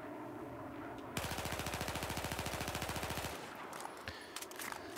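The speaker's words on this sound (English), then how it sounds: "I'm going to go ahead and just fire some shots first at the wall." Sustained automatic rifle burst fired at a wall in the video game Battlefield 4, a rapid even stream of shots lasting about two seconds, followed by scattered impact clatter.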